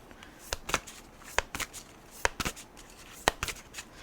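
Tarot cards are shuffled by hand in a quiet room, giving sharp, irregular slaps and riffling flicks spaced a fraction of a second apart, close and clear with no talk over them.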